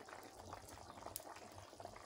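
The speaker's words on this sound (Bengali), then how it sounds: "গোশটা কিন্তু টকবক করে ফুটছে," Beef curry (chui jhal beef) bubbling and boiling in a pot over a clay stove, a steady soft churning simmer with occasional small pops, close and fairly quiet, no voices.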